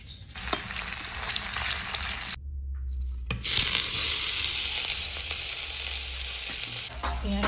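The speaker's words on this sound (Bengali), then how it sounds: "পেঁয়াজটা কিন্তু হাফ ভাজা হয়ে গেছে।" Onions fry in a pan in a home kitchen, giving a steady crackling sizzle with stirring scrapes and a brief gap before the sizzle returns louder and continues.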